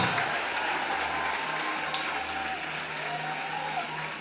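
A church congregation applauds in acclaim of Jesus Christ, a dense, even wash of clapping hands at moderate distance, steady for a few seconds, with faint voices mixed in.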